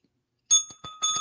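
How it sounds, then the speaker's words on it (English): A small hand bell rings in several quick bursts, bright and close, after a moment of silence, with no talking over it. "Where's your little bell?"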